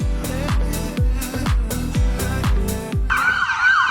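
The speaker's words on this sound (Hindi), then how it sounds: "देखो एम्बुलेंस जा रही है।" A Canadian ambulance siren wails in fast repeating cycles, loud and close, then switches to a different higher pattern near the end as it passes.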